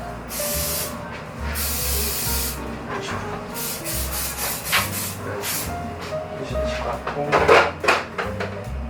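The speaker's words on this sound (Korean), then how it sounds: "여기서 스프레이 해주시면 돼요" Aerosol hair spray sets curls in a hair styling session, with several short hissing bursts and soft rubbing and handling sounds close by.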